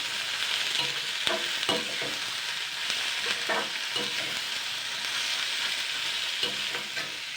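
Chilli, tomato and carrot fry in a pan with a loud, continuous sizzling hiss, while a spoon stirs them in repeated scraping strokes that come in short, uneven bursts close by.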